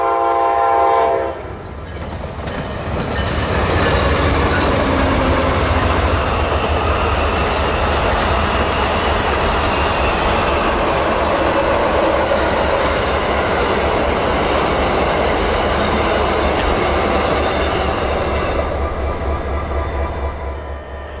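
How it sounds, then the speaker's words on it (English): Amtrak 97, the Silver Meteor passenger train with sleeping cars and a diner, rolls past loud and close, a horn sounding at the start before a long sustained rumble of wheels and cars that fades slightly at the end. "Amtrak 97, the Silver Meteor, showed up."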